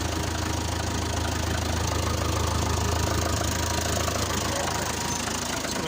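A Fordson Major tractor engine runs steadily while its front loader is lowered, a constant loud, close diesel drone with a knocking low rumble and no talk over it.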